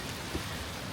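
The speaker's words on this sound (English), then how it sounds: "It's raining a little bit right now." Light rain falls outdoors as a soft, even hiss of drops pattering on surfaces, faint and continuous, with no voices.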